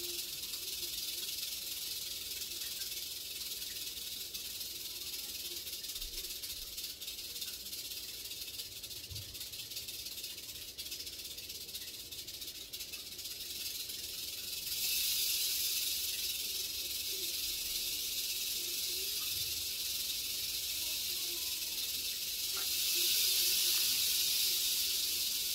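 A cobra's steady, airy hiss continues for a long stretch during feeding, swelling louder partway through and again near the end, with no voices.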